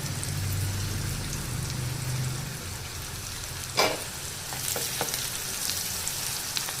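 Curry leaves dropped into hot oil for paneer egg fried rice sizzle and crackle steadily, with a brief louder spatter partway through and a continuous frying hiss throughout.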